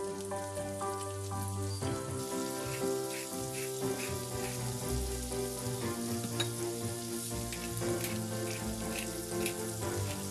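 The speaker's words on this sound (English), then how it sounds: "The shallots only need to be sautéed for a minute as they'll continue cooking with the salmon." Salmon cubes and shallots sauté in a pan for salmon rillettes, giving a steady, close sizzle throughout with a constant tonal layer running beneath it.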